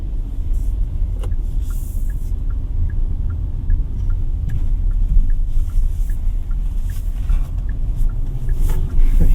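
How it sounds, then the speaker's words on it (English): A 2024 Kia Sonet 1.5 SX on the move, heard from inside as a steady, even rumble of road and engine noise with faint higher whooshes and ticks, continuous and fairly loud with no talking. "driving this car is pretty fun because of its size"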